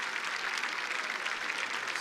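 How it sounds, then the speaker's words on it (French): Dense, steady applause from a large crowd of Olympique Lyonnais supporters at a training session, continuous and fairly distant, with no pauses. "Kane Bonnevis sous les applaudissements des supporters de l'Olympique Lyonnais."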